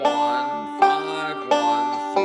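A plucked string instrument plays a quick forward-backward roll picking pattern, bright notes ringing in a repeating cycle, three phrases in a row, alone and close.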